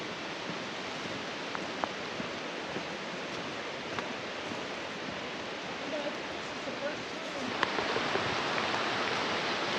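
Steady rain at Plitvice Lakes National Park hisses across the whole stretch, a dense broadband wash with scattered drip-like ticks, growing slightly heavier near the end.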